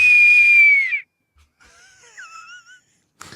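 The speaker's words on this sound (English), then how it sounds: "They can't even blow hard enough to make it sound like a whistle." A thin, weak whistle tone wavers for about a second and fades, followed by faint breathy squeaks and quiet wavering tones.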